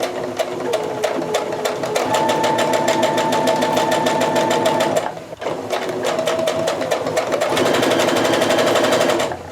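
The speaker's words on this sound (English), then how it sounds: "we're going to go ahead and sew our side seams together the same way we did for the big mask" A sewing machine stitches the side seams of a small fabric face mask, a loud, fast, steady mechanical chatter with a brief pause midway before the run resumes.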